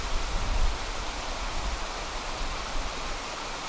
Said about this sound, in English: if we look down, you can see the brook there